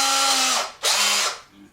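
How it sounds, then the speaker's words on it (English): A power drill with a 16 mm Porcadrill 365 diamond-tip bit whines against ceramic tile in two close, loud bursts with a short pause between, the motor pitch dropping as each burst ends. "I'm going to drill firstly into the ceramic and then into the porcelain"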